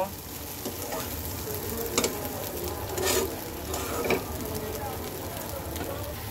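Soybean and lentil fritter curry sautéing in a pan, a steady close sizzle and frying crackle with occasional stirring scrapes, continuous throughout with no talk.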